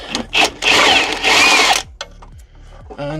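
A power tool spins out the last bolt on the rear subframe of a Mini Cooper S Cabrio, loud and close, with a sustained whirring burst followed by brief stops, short revs and clanks.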